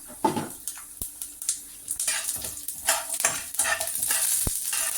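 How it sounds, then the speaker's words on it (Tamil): Urad dal and chana dal sauté in a hot pan, with a soft continuous sizzle broken by repeated scraping stirs and light clinks of a spoon against the pan. No one speaks. "அடுத்து கடலைப்பருப்பு இந்த அளவு சேர்த்துக்கிறேன். இப்போ இது நல்லா வணக்கிடலாம்."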